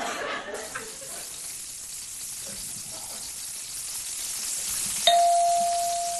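A steady crackling sizzle of Twinkies deep frying in hot oil at the Puyallup Fair, broken near the end by a sharp bell-like ding that rings on with a sustained tone.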